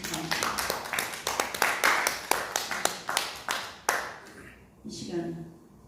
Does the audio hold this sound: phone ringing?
no